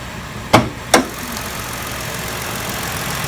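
A 2016 Ford Flex engine idles with a low, steady hum, broken early by two sharp knocks in quick succession.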